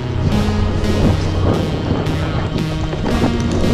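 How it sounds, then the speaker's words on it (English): Loud wind buffeting the microphone with a low rumble at a snowboarding area, alongside what sounds like a moving vehicle and a few faint voices. "It's so windy."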